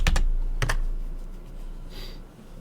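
Keys clatter on a computer keyboard in a few quick close bursts of clicks, followed by quieter scattered taps and a faint low hum in the background.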